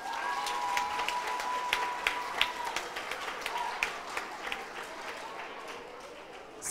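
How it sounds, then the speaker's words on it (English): A school audience applauds students with a sustained patter of clapping from a crowd indoors that slowly fades, with faint voices underneath. "let's give our peers a round of applause"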